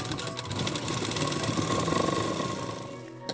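Sewing machine stitching a folded seam on a plain blouse, a steady, close whirring run of fast needle clatter lasting a few seconds and stopping with a small click at the end.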